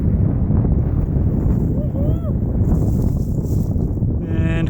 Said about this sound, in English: And the wind's picking up.